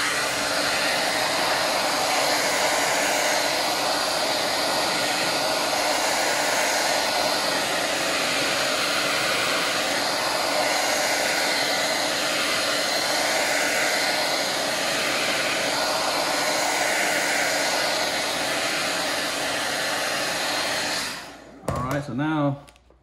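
Heat gun blowing hot air to soften and shape a face mask, a loud steady whooshing drone held close and continuous, then dropping away as it shuts off at the end.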